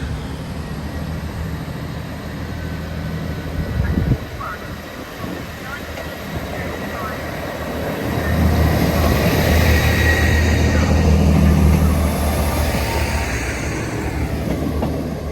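A train rumbles out of Manchester Piccadilly station bound for York, a steady low mechanical drone that swells louder partway through, with brief clanks and a voice speaking over it.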